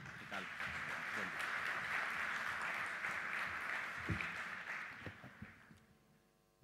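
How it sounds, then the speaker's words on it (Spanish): Applause from the audience at a national food and beverage industry conference (COPAL 2015) welcomes a speaker, holding steady for several seconds before tapering off to a few scattered claps and quiet room noise. "Lo recibimos con el aplauso de ustedes."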